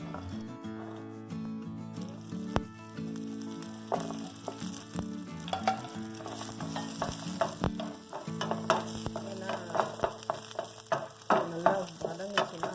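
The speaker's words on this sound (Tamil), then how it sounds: "பூண்டு நல்லா ப்ரௌன் ஆகணும், டார்க் ப்ரௌன் ஆகணும்." Garlic frying in a little oil for flax seed idli powder, a continuous crackling sizzle broken by repeated stirring scrapes in the pan, fairly close and with no voices.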